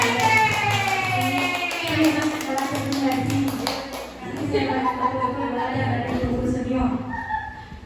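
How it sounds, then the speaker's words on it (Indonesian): Applause for a woman addressed as Bunda at a school teachers' gathering, several seconds of brisk hand clapping mixed with voices and a sustained musical tone underneath. "Tepuk tangan dulu untuk Bunda."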